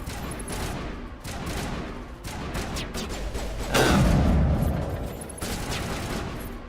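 Rapid bursts of gunfire crackle through a Mass Effect firefight, with repeated volleys and a heavier blast in the middle, loud and close with no talking.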